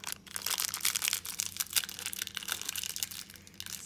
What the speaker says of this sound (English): Taking off the wrapper,